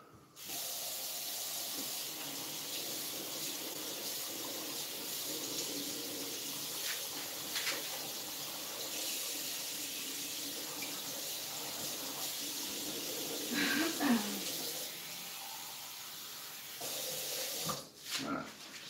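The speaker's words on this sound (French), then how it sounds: "puis on met de l'eau tiède" Warm tap water pours steadily into a glass in a home kitchen, a soft continuous hissing stream heard fairly close, with faint clinks and small shifts in flow toward the end.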